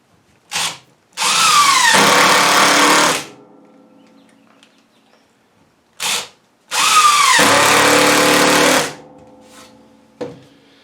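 Power drill boring pilot holes and driving screws into a wooden outdoor bench seat, two long loud whirring bursts of about two seconds each with short trigger blips in between, close and alone with no talk.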